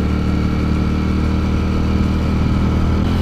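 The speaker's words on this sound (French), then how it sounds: "on entend bien le moteur" A Ducati Streetfighter V4 SP motorcycle engine runs steadily at close range, a dense, loud mechanical rumble holding an even idle without clear revs.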